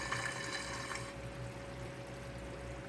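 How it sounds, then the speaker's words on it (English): Water from a 1-inch PVC return pipes into a filter sock in a Trigger Systems Crystal 30 aquarium sump, a steady close bubbling wash that is brighter at first and then settles into a softer continuous hiss with a faint hum beneath. "All you hear is the air bubbles"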